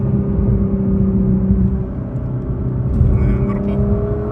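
A 2017 Nissan GT-R Premium engine drones and rumbles steadily from inside the cabin under acceleration, a continuous loud whirring hum with no distinct rev spikes.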